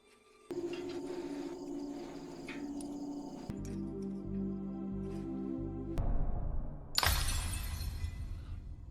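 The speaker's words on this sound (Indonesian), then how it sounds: "suntikan insulin Day terjatuh dan pecah" An insulin syringe drops and shatters, a loud bright burst of breaking near the end that follows a sustained tonal background of music.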